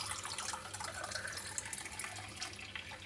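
Tap water running steadily into a glass or cup, a continuous close, moderately quiet splashing stream with no voice.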